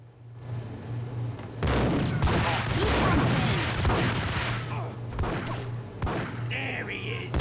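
Gunfire in the Max Payne video game, a burst of loud shots and impacts over about five seconds, layered under game music and a steady low hum.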